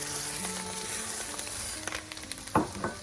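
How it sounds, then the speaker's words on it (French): Rice poured into a pan of golden fried shallots, a steady sizzle of frying with a burst of crackling and scraping as the grains hit the hot fat, close and alone. "Quand elles ont cette belle couleur dorée, on y verse le riz."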